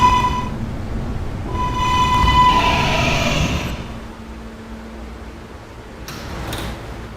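A K subway train on the B line of the Potato City Subway rumbles and whines inside a car, with a rising electric tone and hiss that fades into quieter running noise and a brief high squeal near the end.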